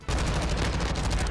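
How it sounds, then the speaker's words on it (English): Dense, rapid gunfire from a video game rattles continuously and loudly, with shots overlapping into an unbroken burst. "my best play is to actually shoot the mine and then free fire towards the direction"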